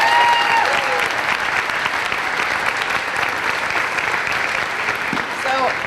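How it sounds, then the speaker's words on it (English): Audience applause for the composer at a school string festival concert, a steady dense crowd clapping that holds for several seconds at even loudness. "So if you give him a round of applause."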